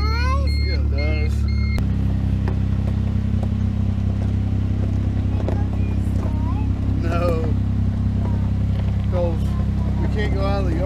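A lifted Smart car golf cart engine cranks and catches, then settles into a steady low idle rumble close by, with people talking over it throughout.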